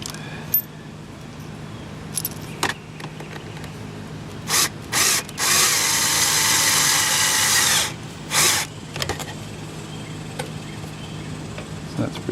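A power drill tightens screws on parts of a GE Nautilus dishwasher during a repair, with short whirring bursts and one longer sustained run of about three seconds, alongside clicks and handling noise.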